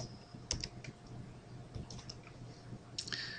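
Someone typing a formula into a spreadsheet on a computer keyboard: sparse, close key taps and clicks in short irregular bursts, quiet and alone without any talking.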